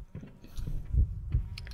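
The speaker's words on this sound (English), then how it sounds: "I hate that heartbeat." A low, muffled heartbeat thumps in the Dungeon Nightmares video game, with a few soft beats and two heavier thuds close together, heard alone.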